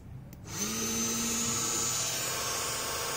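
A small USB rechargeable 20W hand mixer blender whirs up after a brief quiet start, a steady motor whine holding through its speed settings without any talk.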